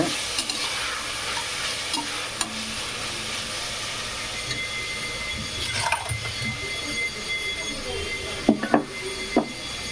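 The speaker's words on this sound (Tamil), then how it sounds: "இப்போ நல்லா இந்த தக்காளி வதக்குங்க" Tomatoes sautéing and being stirred in a pan for one-pot tomato rice, a steady soft sizzle with occasional scraping clicks of a spoon against the pan, close and moderately loud throughout.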